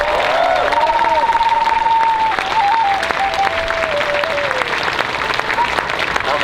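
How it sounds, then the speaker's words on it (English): A crowd applauding a speaker at a gathering by a teepee lodge, loud sustained clapping with a few cheers and voices mixed in, continuing for several seconds. "So give a round of applause for Steve."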